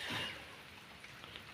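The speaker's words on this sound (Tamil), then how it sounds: "கூட மழையும் பெஞ்சிட்ருக்கு" Rain falls near a farm well on a small field plot, a faint, steady hiss with a few soft drops and no voices.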